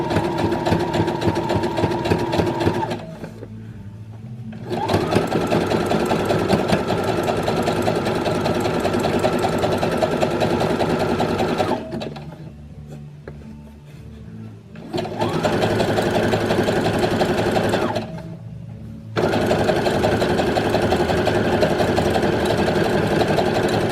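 Sewing machine stitching elastic onto bra fabric runs in three long, steady bursts of rapid mechanical whirring, separated by short quiet pauses where the machine stops, close and fairly loud with no talk.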